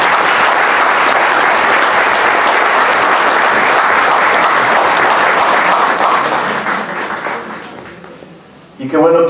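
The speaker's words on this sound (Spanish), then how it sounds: "Eso, un aplauso, un aplauso." Crowd applause at a thanksgiving celebration for a golden anniversary in Peru, sustained dense clapping that fades out toward the end before a voice begins speaking.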